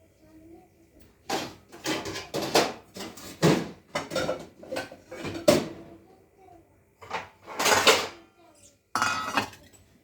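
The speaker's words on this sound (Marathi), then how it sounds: "वरण भाताचा कुकर लावून घेते थोडंसं" Metal pots and lids clank and clatter in bursts as a pressure cooker for dal and rice is handled and set down close by, with short pauses between the knocks.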